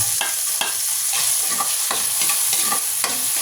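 Garlic sautéing in a pan while making egg adobo: sharp repeated scraping strokes of a spatula stirring over a continuous close sizzle, with no talking.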